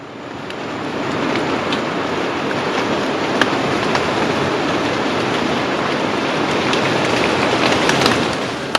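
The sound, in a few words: raindrops hitting the ground, rain gathering force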